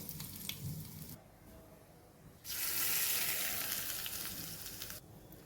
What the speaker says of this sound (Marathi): आता ही छान फोडणी खमंग आपण मुळ्याच्या चटणीवर घालूया